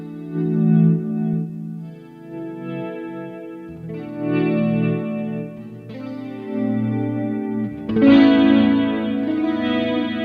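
A Stratocaster with new pickups and wiring plays slow volume swells through Fractal effects with chorus, distortion and reverb; four or five chords fade in one after another, smooth and sustained, with no talking.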